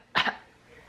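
A baby gives a short double cough, two quick close bursts in about a tenth of a second, near and fairly loud, then quiet room tone.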